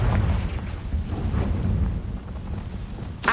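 Confringo blasting spell in the Hogwarts Legacy video game, a deep rumbling boom that rolls and fades over a few seconds, followed by a short sharp burst at the end.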